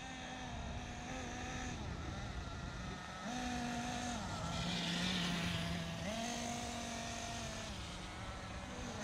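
A Kyosho Inferno NEO ST 3.0 RC car engine runs during break-in on its first run, a steady buzzing drone whose pitch dips and rises several times as the throttle changes, fairly close and continuous without talk.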